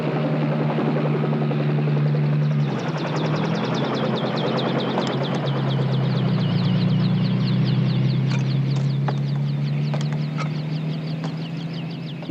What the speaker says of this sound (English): the helicopter flown by Bob McKeegan delivers Captain Cousteau to a barren hill